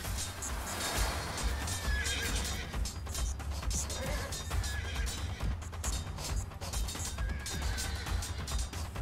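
A horse in the video game Animal Revolt Battle Simulator neighs and whinnies again and again over loud battle clatter, crashes and hoof clops, close and busy throughout.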